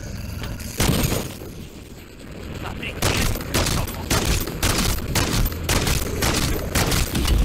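Loud, rapid gunfire from a Longbow sniper rifle in Modern Warfare 3 Zombies: bursts of sharp shots in quick succession over a busy, noisy background, with a short lull before the shooting intensifies.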